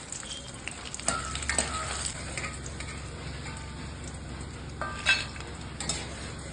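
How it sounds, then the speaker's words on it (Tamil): Turkey berries fry in sesame oil, a steady close crackle with occasional louder pops and a few clinks of a utensil against the pan. "சுண்டைக்காயை நல்லெண்ணெயில போட்டு எடுத்துக்கணும்"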